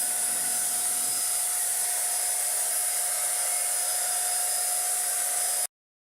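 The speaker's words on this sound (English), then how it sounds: "Painting with the Finish Max works best if you use long sweeping motions from side to" Finish Max paint sprayer spraying paint onto a wooden bench, a steady high-pitched whirring hiss with a constant tone that runs unbroken and then cuts off abruptly.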